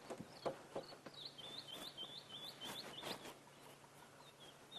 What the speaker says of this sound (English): we can hear white-browed scrub robin calling quite vigorously. You can hear a golden-breasted bunting as well.